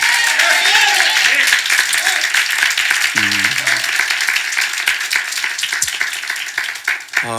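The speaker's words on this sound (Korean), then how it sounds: "먼저 우리 하나님께 박수로 영광 돌리겠습니다." Church congregation clapping together during a Sunday morning worship service, a dense steady wash of applause that fills the whole stretch and tapers slightly toward the end.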